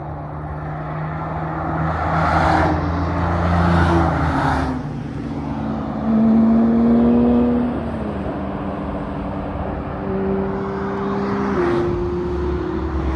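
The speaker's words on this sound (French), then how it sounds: "petit rétrogradage de la FF, magnifique" A Ferrari FF downshifts with a rising and falling engine note, followed by other sports cars passing at speed on a motorway. Several loud pass-bys swell and fade, with steady engine drone throughout.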